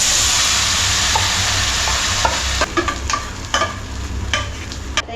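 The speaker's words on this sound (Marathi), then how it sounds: "बॅटर आपलं गोळा होईपर्यंत शिजवून घ्यायचं, ढवळत राहायचं मीडियम गॅसवर." Batter being stirred in a pan over a medium gas flame after cumin and a pinch of asafoetida went in: a steady close sizzle with scraping stir strokes that get more frequent and distinct in the second half, no talking.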